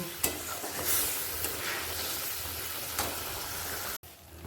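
Katla fish pieces go into a simmering kaliya curry in a pan, producing a steady, fairly soft sizzle with a few light stirring touches before it cuts off abruptly.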